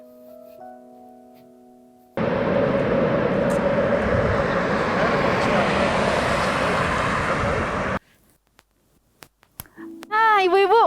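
A fixed-wing airplane's engine roars loud and steady for about six seconds, cutting off abruptly and giving way to quiet clicks and a tonal electronic sound.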